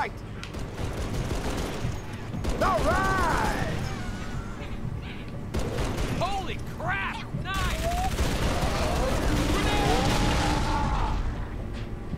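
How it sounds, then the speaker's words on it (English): Explosions and gunfire in the video game Halo 3: ODST rumble continuously, dense and loud, with whistling tones and bursts layered throughout. "explosions"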